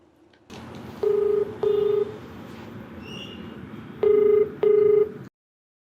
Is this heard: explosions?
no